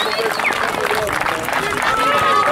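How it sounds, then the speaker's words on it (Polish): Applause and crowd noise at a youth football tournament award ceremony, a continuous wash of clapping mixed with cheering and babble of voices in a large, reverberant hall. "Wielkie brawa."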